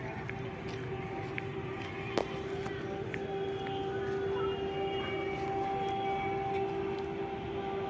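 Distant rail ambience as the LTT Visakhapatnam Superfast Weekly Express with a WAP5 locomotive approaches Bhilai Power House station, a faint steady tonal horn held throughout over low rumbling noise, with a brief sharp click partway.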